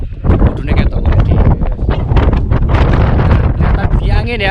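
Gusting wind buffets the microphone atop Mount Slamet, a loud, rough, unbroken rumble with rustling flutter; a voice is partly audible beneath it.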